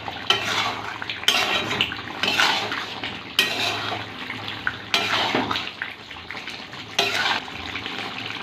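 Spoon scraping and clattering against a pot, stirring ground garam masala into a chicken and raw jackfruit curry with a little gravy, in repeated loud strokes at close range with no talking.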